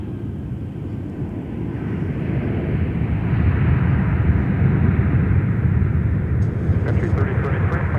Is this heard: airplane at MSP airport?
yes